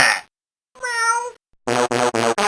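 A synthesized cat meow from a Bop It emulator game sounds once, loud and clean, followed by a short run of rapid, evenly spaced electronic tones and beeps.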